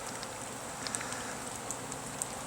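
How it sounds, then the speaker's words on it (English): Honeybees buzz steadily around a busy Carniolan hive outdoors in bright sun, forming a faint continuous hum with a few closer individual passes. "if we come over here to the other carniolan hive, we see a lot of activity on this one"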